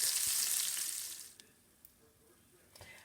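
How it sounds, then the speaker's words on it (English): Beef bones browning in an iron skillet: a steady, hissing sizzle that is loud at first and then eases to a softer crackle, with a few light clinks of utensils. "I have some browning in the iron skillet right now"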